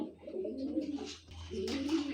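A male racing pigeon hatched in 2021 gives a low, close, throaty coo in two short phrases separated by a brief pause.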